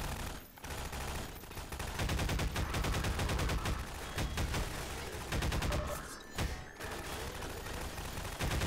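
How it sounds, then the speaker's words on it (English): Dense automatic gunfire rattles almost nonstop in Half-Life 2, rapid loud bursts with only short gaps between volleys. "Oh, sorry, I'm shooting people."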